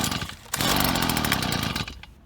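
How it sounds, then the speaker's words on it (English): A STIHL BG50 leaf blower's small two-stroke engine is cranked on choke, fires, and roars loudly for a couple of seconds before dropping off. "crank the engine over."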